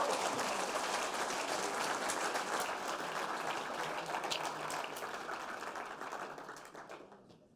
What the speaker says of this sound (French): on peut applaudir Charlie.